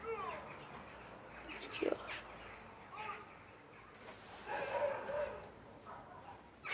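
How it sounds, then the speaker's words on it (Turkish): Dogs bark and yip at a distance amid outdoor background noise, with faint voices now and then. "Köpekler saldırıyor duyuyorsunuz zaten."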